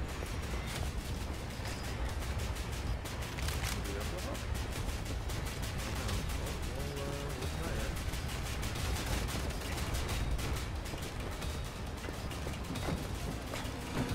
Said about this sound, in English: But he's still firing guns away